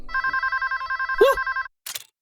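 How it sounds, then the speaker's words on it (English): At a quiet police station late at night, a telephone bell rings in a rapid, steady trill for about a second and a half, then stops, followed by a brief rustle. "the telephone at the police station started ringing"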